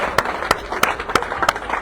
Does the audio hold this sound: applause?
yes